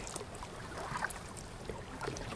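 Kayak paddling on a sunny bay in Miami, with steady soft water swishes and light splashes from the paddle close by over a constant wash of moving water and faint wind.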